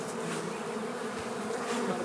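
Honey bees buzzing steadily at a club apiary during spring colony splits, a close, continuous hum with no talk.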